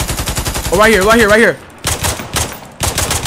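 Rapid bursts of automatic gunfire from the video game Warbox, close and loud, with sharp repeated cracks, a short warbling electronic tone in the first half and a voice speaking briefly.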